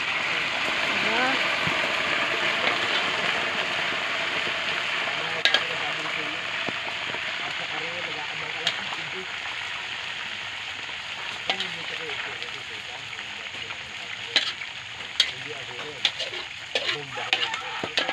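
Pork belly (liempo) frying in a pan in a rustic provincial kitchen, a steady crackling sizzle with sharp pops and spatters throughout, while people talk nearby.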